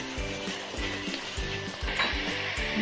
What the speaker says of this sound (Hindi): अब हम इसमें डालेंगे लहसुन अदरक का पेस्ट। अब इसे तकरीबन 2 मिनट के लिए और भून लेंगे।